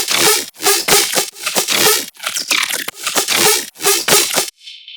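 Heavy riddim dubstep basses built with wavetable synthesis and pitch automation, firing as loud, gritty, distorted bursts in a choppy, stuttering rhythm with short gaps between hits.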